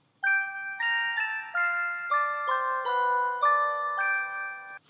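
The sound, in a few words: synthesized bell with layered fifth harmony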